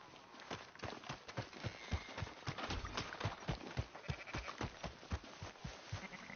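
Sheep bleat in a PS4 video game amid a busy, rhythmic pattern of hoof-like steps and clopping, faint and continuous with no talk.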